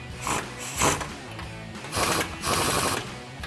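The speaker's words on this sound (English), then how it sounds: "now I've got a 24mm socket on a swivel adapter and 21mm wrench, and we can go ahead and tighten these down" Ratchet fitted with a 24mm socket on a swivel adapter tightening suspension bolts on a 1994–2004 Ford Mustang, giving bursts of dense mechanical clicking in a few loud runs with brief pauses between them.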